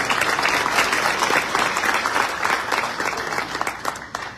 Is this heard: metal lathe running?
no